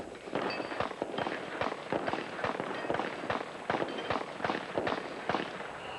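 Pistol shots at the 1984 Bianchi Cup shooting competition: a dense, rapid string of sharp cracks and pops firing without pause, fairly loud against an outdoor background.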